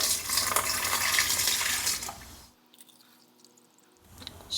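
A quart of bleach is poured into a measuring container for a 2-gallon pump-up sprayer: a steady, close liquid pour runs for about two seconds, then stops, leaving near-quiet.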